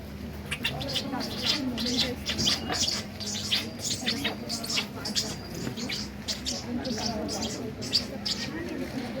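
A man at a Kannada cultural festival vocally imitates two lovebirds chirping, producing a rapid, continuous stream of high, squeaky chirps up close, with a low murmur of background noise underneath.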